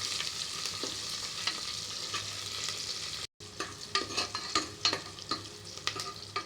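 Mustard seeds and cumin crackle and sizzle in hot oil for a tempering, a steady close fry broken by a brief silence, then sharper scattered pops as the seeds burst.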